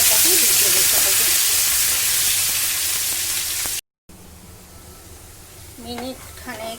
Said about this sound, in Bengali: মশলাটাকে ভেজে দিতে হবে।